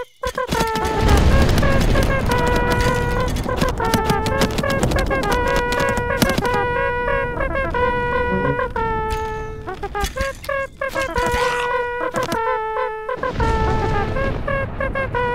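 Archidon archers firing volleys in the mobile battle game Stick War Legacy, repeated booming impacts over loud music-like tones, dense and continuous.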